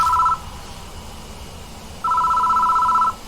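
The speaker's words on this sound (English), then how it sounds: "The phone starts ringing out of nowhere." In the Death Mark horror video game, a telephone rings with loud warbling electronic trills: one short burst ending at the start, a pause, then one longer ring, set over a low hum.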